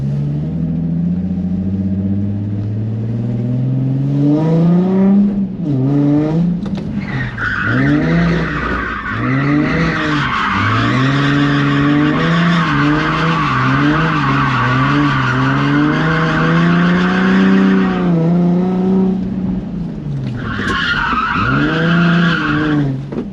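A Nissan 350Z drift car with a newly tested setup slides with long, loud, sustained tire squeal, its engine note rising and falling beneath the screech as it transitions through corners, with no talking.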